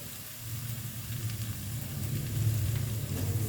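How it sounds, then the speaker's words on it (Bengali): Ginger paste and spices frying with garlic and onion in a pan, a steady close sizzle that swells slightly louder toward the end, with no talking. "দিয়ে আবার ভালোভাবে আমি মশলাটাকে কষিয়ে নেব"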